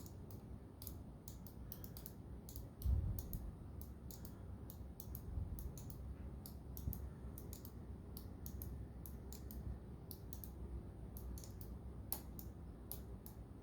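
A Razer Tartarus V2 joystick whose stick fails to strafe diagonally clicks in a fast, steady run of light plastic ticks, close and fairly quiet, over a soft low room hum.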